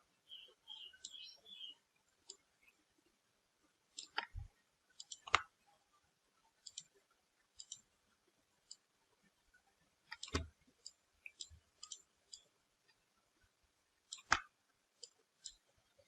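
Computer mouse clicks from editing work in Photoshop CC 2020. Sharp, dry single and double clicks come irregularly across a quiet background, close and fairly soft, with no talking.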